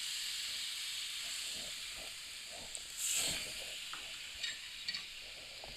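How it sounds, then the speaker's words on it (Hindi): Milk hits bread frying in a hot pan for French toast, setting off a steady close hiss and sizzle, with a brief louder burst of spitting midway and a few small pops after, without talking. "ऊपर डालेंगे दूध, देखिए दूध डाल देंगे ऊपर"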